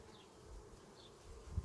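Honey bees buzz steadily around a capped honeycomb frame during a backyard honey harvest, a close, faint, continuous hum with a brief louder bump near the end.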